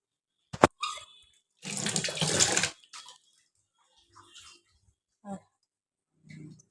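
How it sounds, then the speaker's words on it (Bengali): A kitchen tap gushes for about a second as hands are rinsed of turmeric and fish, a close, loud splash of running water followed by quiet and a few small knocks. "হাতটা ধুয়ে আসি"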